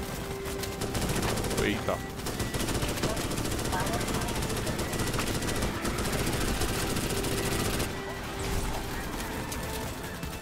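Dense, continuous gunfire and machine-gun bursts from the video game Starship Troopers: Extermination rattle loudly with explosions mixed in, while a player speaks briefly over the action.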